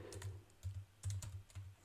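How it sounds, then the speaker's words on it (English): Quick, uneven bursts of computer keyboard typing during a coding tutorial: crisp clicking keystrokes in short clusters separated by brief pauses, close and fairly quiet, with no talking. "Today is a bad typing day for me"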